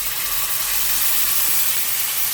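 Ginger and garlic paste sizzles in hot oil for a vindaloo curry, a loud, steady hiss and crackle filling the whole moment without a break.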